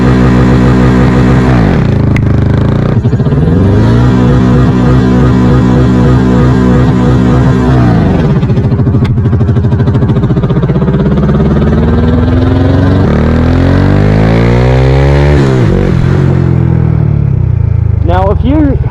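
A Honda Wave 125i underbone motorcycle with a 143cc engine revs up hard, climbing through sweeping pitch rises and drops between launches, loud and close, with brief shifts and a steady idle in between.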